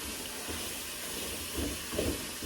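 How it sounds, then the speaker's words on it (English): Beef sautéing in a pan for shepherd's pie, a steady soft hiss with a few louder bursts of sizzle toward the end, near and without talk. "now we're gonna saute all this together"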